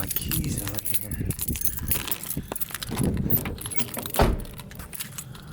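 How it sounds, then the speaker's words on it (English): A set of keys jangles outdoors near a car being parted out, a Toyota Cressida, with brief metallic clinks over low rumbling background noise and a sharper rattle near the end. "I left my keys out here."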